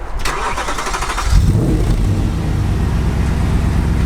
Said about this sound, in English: Cannot beat that V8 burble.